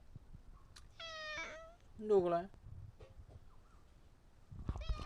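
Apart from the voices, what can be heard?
cat meowing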